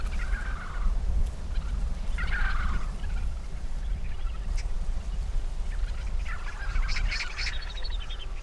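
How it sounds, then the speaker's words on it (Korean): A flock of wild vultures squabbling over food in a winter feeding ground in Jangdan-myeon, Korea, giving loud, harsh gobbling squawks and calls in several bursts over a constant noisy background. "먹이를 둘러싼 쟁탈전이 시작됐다."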